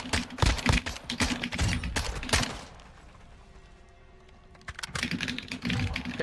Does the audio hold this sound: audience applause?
no